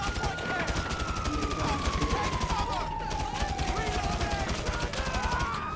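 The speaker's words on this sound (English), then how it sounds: "Oh, shit, I'm being shot at." Sustained gunfire in GTA V Online, with dense, continuous shots crackling throughout alongside a police siren wailing and gliding downward, all loud and close with busy game ambience.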